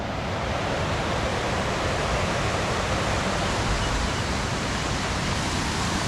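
A clear mountain stream flows right beside a hillside Mahadev temple in Jiri, a steady, loud, unbroken rush of water filling the whole stretch with no voices.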